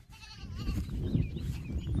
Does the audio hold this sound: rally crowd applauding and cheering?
no